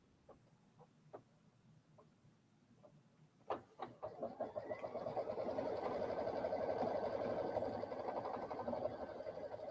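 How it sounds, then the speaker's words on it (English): A Luminaire embroidery machine runs a placement stitch on a beach towel, starting with a few clicks and then settling into a fast, steady mechanical whir close by. It stays moderately loud throughout and no one talks over it. "I'm going to do the placement stitch so you can watch that happen."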